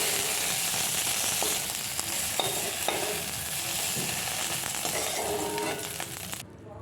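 Eggplant slices fry in a pan with a continuous crackling sizzle and occasional stirring scrapes, steady and close for most of the clip before fading out at the end.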